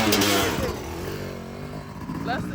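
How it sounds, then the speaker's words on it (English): A two-stroke dirt bike engine drones steadily while the bike is ridden around town, its buzzing tone rising and falling slightly and staying continuous under a person talking. "You don't know the bike that much, but it's a 2-stroke"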